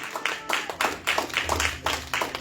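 Congregation in a church clapping together in a steady, rhythmic beat, a crowd of hands striking in repeated bursts about twice per second, fairly close and filling the whole stretch.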